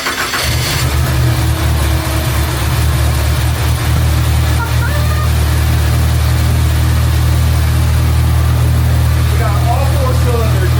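Ford EcoBoost engine swapped into a Nissan 240SX running just after start-up, a loud steady low idle with a rough throb, close up and continuous.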